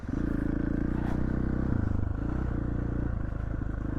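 A dirt bike without studs rides through snow, its engine buzzing loud and steady at close range with slight shifts in pitch as the bike slides sideways, and no voices.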